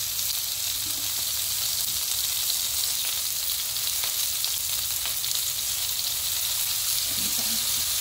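River clams frying in a pan with a splash of fish sauce give a steady, close sizzle that runs the whole time with no talk over it.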